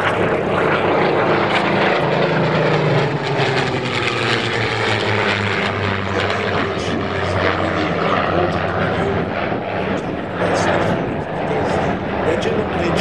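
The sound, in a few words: propeller aircraft flying at an air show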